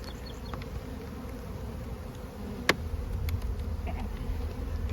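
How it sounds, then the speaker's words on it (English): Honey bees buzz steadily around a spring hive on a cool morning, a dense continuous drone close by with a few brief clicks and knocks over it. "the bees are very happy"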